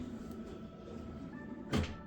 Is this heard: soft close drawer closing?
yes